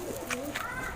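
Pigeons coo softly in a short burst: two faint low murmurs over steady background hiss. The birds are a Bahraich-bred Kalsire Ambersare pigeon pair kept for sale.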